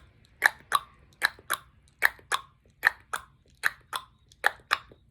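Tongue clicks imitate a trotting horse: paired sharp, close pops repeat in a steady clip-clop rhythm, about seven pairs in quick succession, with no talking.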